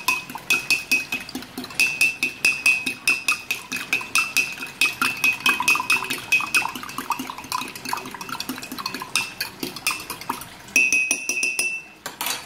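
A spoon clinks rapidly and repeatedly against a glass while stirring a drink, a steady rhythmic tinkling up close for several seconds.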